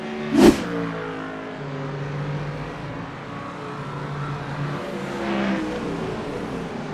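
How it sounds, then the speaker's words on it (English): A Mustang race car in an iRacing multi-class IMSA replay at Imola, its engine droning steadily at mid distance with shifting harmonic pitch, a sharp burst near the start and a swell as it comes by later. "You see his Mustang just get loose over the turn."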